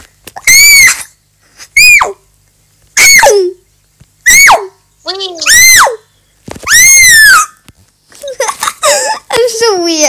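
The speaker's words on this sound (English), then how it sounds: "If you hear her screaming in the background" A young girl screams and squeals in loud, high-pitched bursts close by, about seven separate cries with short pauses between, ending in quicker shrieks and giggly squeaks.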